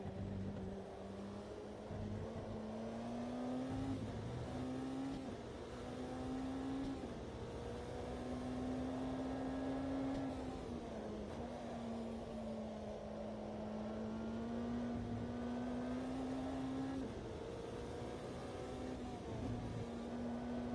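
LMP2 prototype race car engines in the Automobilista 2 racing game at Le Mans, a steady droning engine tone that rises and falls gently, heard alone and fairly subdued throughout.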